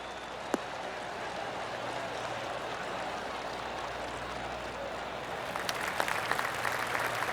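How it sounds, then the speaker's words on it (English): Golf clap applause from the gallery in the video game PGA TOUR 2K24 at THE PLAYERS Championship, a steady crowd patter swelling toward the end, with sharper individual claps standing out over continuous noise. "Oh, golf clap."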